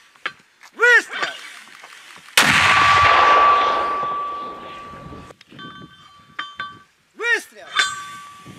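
A mortar fires on a front line near Debaltseve in the Ukraine war, one sharp loud blast followed by a long ringing decay, with shouted voices and a bird-like chirping before and after it.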